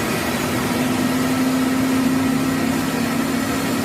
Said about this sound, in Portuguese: Teste dos motores